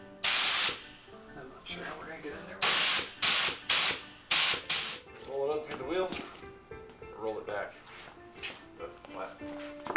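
Willys Jeep bolts get spray painted: several short, loud bursts of aerosol hiss come in quick succession near the start and middle, with people talking in between and over the later part.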